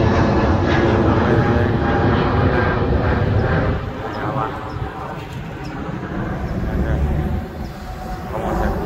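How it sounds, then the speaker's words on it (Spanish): A low-flying airplane passes near the airport by the San Bruno BART station, a loud, broad engine roar that swells and then slowly fades, with people talking over it outdoors. "Estamos cerca del aeropuerto, por eso se oyen los aviones."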